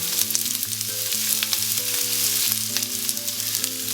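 Onions frying in extra virgin olive oil, a steady crackling sizzle that runs close and continuous under a soft background melody, with no talk.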